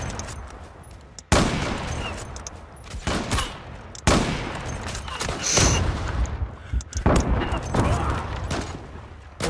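Sharp, loud rifle shots crack out one after another in the online shooter game Zula, each a sudden burst with a brief tail, spaced irregularly across a background of game ambience.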